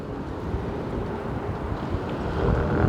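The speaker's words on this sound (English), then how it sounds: "Wow, it's getting windy." Wind gusting across a marina dock among moored sailboats, a steady rough rumble and buffeting on the microphone that swells louder toward the end, with no voices.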